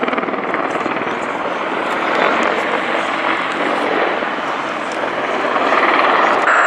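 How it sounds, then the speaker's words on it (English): An Apache helicopter gunship makes a low-level pass at an airfield display: a loud, continuous rotor and engine roar that swells slightly as it passes. "the Special Forces patrol have called gunship in to conduct a low-level pass"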